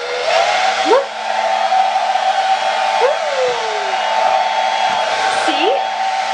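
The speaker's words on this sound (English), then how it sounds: "You like to make a face at the blow dryer." A blow dryer runs loud and close with a constant airy whir throughout, while brief squeaky rising vocal sounds break in over it several times.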